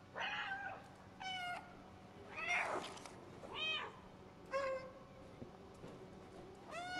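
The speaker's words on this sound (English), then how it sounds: "Maybe if I meow." A cat meows repeatedly in the video game Stray, roughly five or six distinct meows spaced about a second apart over a quiet ambient backdrop.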